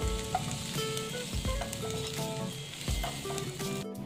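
Soya chunks fry in hot oil with a constant close sizzle and crackle, along with occasional stirring noises and some faint tonal sound underneath.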